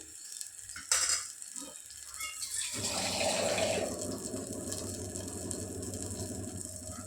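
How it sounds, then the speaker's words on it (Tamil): Water pours into a simmering pot of tamarind curry, a steady close splashing and trickling that follows a few quiet kitchen clinks. "கொஞ்சம் தண்ணி ஊற்றிக்கலாம்."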